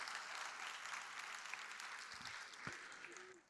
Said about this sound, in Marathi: जोरदार टाळ्या आपण वाजवूया त्या कलाकारांसाठी